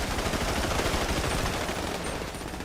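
Gunfire in GTA V roleplay: dense, rapid bursts of shots blur into a continuous crackling barrage at moderate level, with no talking.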